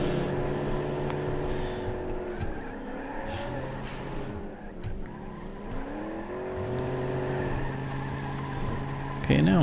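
V8 car engine in the BeamNG.drive demolition derby game, droning steadily and rising and falling in pitch as it revs and shifts, with a louder burst near the end and a voice talking over it.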